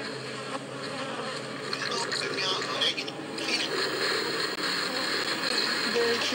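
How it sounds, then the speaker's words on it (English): A bee buzzes close by for several seconds, a steady droning hum with slight wavering in pitch and no talking over it. "Pesky bee."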